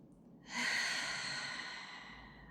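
A single long, slow exhale during a guided breathing exercise. It starts abruptly and is loud, then fades gradually over about two seconds, with soft breathy noise and no talking.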